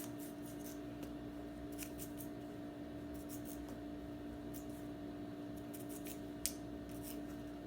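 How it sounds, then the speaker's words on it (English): Scissors snipping and trimming a sew-in bob hairstyle, faint repeated short snips spaced irregularly over a steady low hum, with no talking. "And then I always, you know, fix it up with the scissors"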